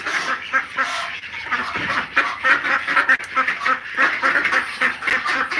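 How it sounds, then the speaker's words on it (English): A flock of ducks quacks steadily and loudly close by, with overlapping, busy calls throughout, as they are led along to be fed. "Hey ducks."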